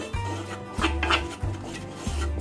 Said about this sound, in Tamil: இந்த மாதிரி தேங்காவை இந்த மண் சட்டி ஃபுல்லாக படுற மாதிரி நல்லா வதக்கிக்கோங்க